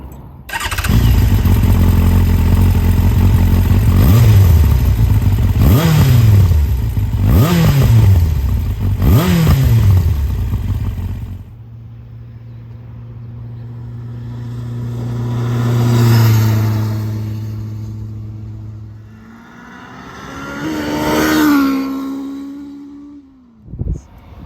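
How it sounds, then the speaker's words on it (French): Yamaha Fazer 1000 motorcycle fitted with a Dominator silencer and baffle: a loud start-up, then three sharp throttle blips, followed by a steady idle and two rising-and-falling revs, all close up with no talking. "Là on a le silencieux dominateur avec la chicane. Donc je mets en route, je mets quelques petits coups de gaz"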